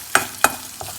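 Ginger and curry leaves drop into hot ghee, giving two sharp sizzling bursts followed by a fainter third, each a quick crackle fading into a soft hiss, close by and with no voices.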